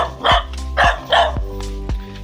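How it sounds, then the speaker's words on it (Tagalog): A dog barks outside a family's house, four sharp barks spaced roughly half a second apart, fairly close and loud over a low steady background hum. "May aso."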